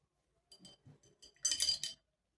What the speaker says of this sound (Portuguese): Lavei o pincel